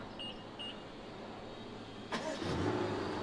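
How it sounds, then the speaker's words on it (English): A BMW's engine starts remotely with nobody inside, a sharp catch and rising rumble that settles into a steady idle after two soft electronic beeps in a quiet parking spot. "Car just started on its own."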